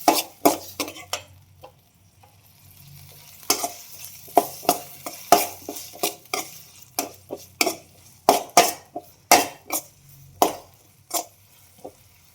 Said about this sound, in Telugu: టమోటా చూడండి, బాగా వేయించుకోవాలి